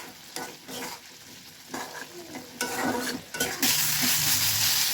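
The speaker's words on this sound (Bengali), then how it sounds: "মশলাটা খুব ভালোভাবে ভাজা ভাজা করে কষিয়ে নিতে হবে।" Spice masala is stirred and fried in a wok for a winter vegetable fish curry, with a steady sizzle and scraping spoon strokes that grow into a louder, denser frying hiss toward the end.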